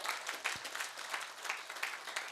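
An audience at a business motivational talk claps together in a quick, even rhythm, sounding faint and distant throughout.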